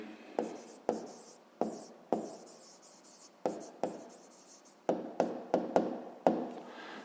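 Pen writing out the answer to a fifth-grade maths exercise on paper, a run of close tapping strokes and scratches in an uneven rhythm, alone and fairly quiet.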